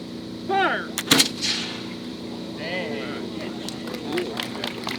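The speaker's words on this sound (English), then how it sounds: "Half cock, present your firelock, fire." Flintlock muskets fire in a reenactment volley, a sharp loud burst of overlapping shots followed by echo, with spoken commands and shouting around it outdoors.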